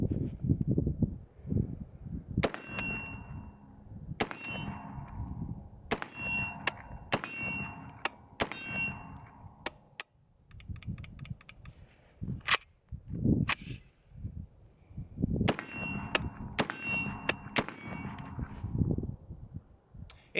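A Bear Creek Arsenal side charging rifle fires 7.62x39 rounds at targets, with sharp reports in quick clusters, bursts of several shots spaced by pauses, and ringing metallic hits.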